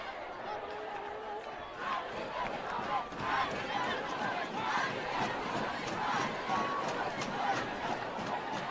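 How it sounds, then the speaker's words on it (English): Homecoming crowd in the Golden Valley high school football cheering section roars steadily from below, a sustained mass of cheers and yells with voices rising and falling throughout. "Golden Valley cheering section you hear below us."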